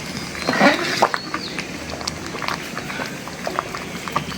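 Letka khichuri made with aromatic short-grain rice bubbles on a home stove, a close, loud thick simmering with soft plops and gurgles, plus a few clinks and scrapes.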